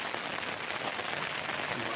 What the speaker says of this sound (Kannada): ಜಾಸ್ತಿ ಆಯಿತು ಮಳೆ